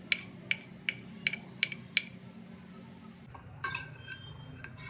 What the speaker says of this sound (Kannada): ಈಗ ಏನು ಮಾಡಬೇಕು ಈ ಮೊಟ್ಟೆನ ಅಂದರೆ, ಈಗ ಚಿಕ್ಕ ಚಿಕ್ಕದಾಗಿ ನೀವು ಈ ಥರ ಕಟ್ ಮಾಡ್ಕೋಬೋದು